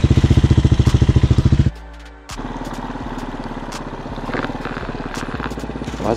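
A Hawk 250cc street-legal dirt bike rides around the block: a rapid, pulsing single-cylinder thump at first, a brief lull as the throttle drops, then a steady, rougher mid-pitched engine drone with clatter, loud and close, no talk.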